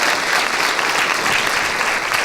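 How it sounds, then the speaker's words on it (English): Audience at a church ladies tea breaking into a hearty round of applause, a thick sustained burst of many hands clapping together, loud and close, with no speech over it. "Let's give one more great round of applause for Ashley."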